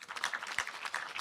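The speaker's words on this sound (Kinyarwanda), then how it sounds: "mbakomeye amashyi" Wedding guests applaud steadily at a ceremony, a brief stretch of continuous clapping from a crowd at moderate distance, with no speech over it.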